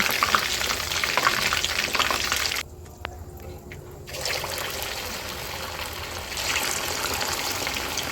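Chicken pieces frying in oil over a high gas flame, a dense loud sizzle that drops away briefly mid-clip with a couple of soft clinks, then returns strong; no talking.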